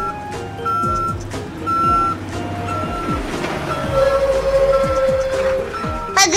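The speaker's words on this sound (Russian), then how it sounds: "И снова работа для бульдозера." A cartoon bulldozer loading hay with its bucket, its engine rumbling under repeated reversing beeps and a sustained whine, loud and close, with clanking machinery throughout.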